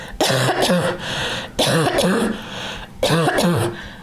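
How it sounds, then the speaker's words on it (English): Three bursts of harsh, rasping coughing from children with cystic fibrosis after treatment, each a cluster of hacks with short pauses between, loud and close. "let's do a couple of good coughs now that we're done with treatment"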